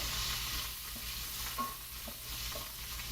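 Onions sizzle steadily in a pan over a medium gas flame while a spoon stirs them now and then, close up with no talking.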